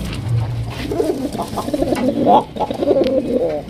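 Pigeons cooing close by, a breeding pair offered for sale, with the larger male and a female; repeated throaty rolling coos over steady background murmur.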